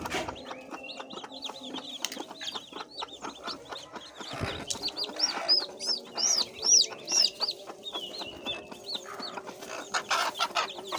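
A native desi hen clucks near her newly hatching chicks, whose high repeated peeps ring out in quick bursts over the hen's low calls, close and fairly loud throughout.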